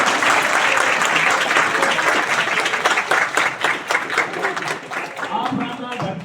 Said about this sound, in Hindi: तालियां बजाएंगे आप लोग।